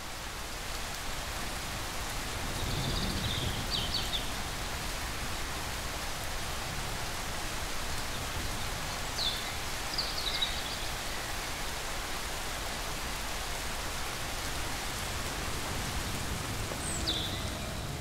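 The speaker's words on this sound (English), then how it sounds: "the rain is a blessing." Steady rain pours down continuously, a dense broadband hiss with a few faint chirps in the distance and no speech.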